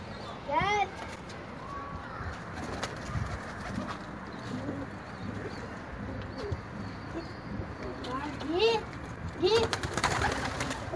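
Pigeons coo in soft, repeated calls outdoors against a busy background. The calls grow louder near the start and again toward the end, while people talk nearby.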